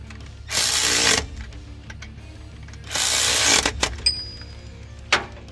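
Bolts being tightened while a ProCharger supercharger is mounted on an engine: two sustained bursts of hissing, ratcheting tool noise, each about a second long, followed by several short clicks and taps close by.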